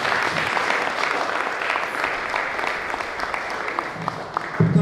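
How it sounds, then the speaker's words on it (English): An audience applauds after an engineering lecture on rod-toothed gears, a steady round of clapping that tapers slightly near the end. "a round of applause more, please, for our Prof."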